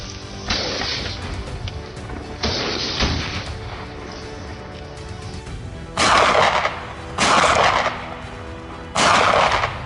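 Gunshots fired at a wild boar during a hunt outdoors: several loud, sharp broadband blasts spaced apart, with the later three especially strong and close, each followed by a brief ringing tail.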